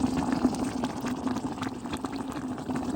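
Quicklime fizzes and bubbles in pond water, a continuous seething, gurgling hiss of steady small bubbles at moderate loudness.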